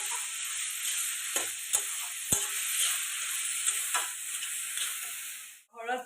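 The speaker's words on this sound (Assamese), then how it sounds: "এতিয়া অলপ সময় ইয়াত ভাজিব লাগিব" Chopped banana stem fries in a hot pan with a continuous loud sizzle, broken by a few sharp scrapes and clinks as it is stirred, with no talk.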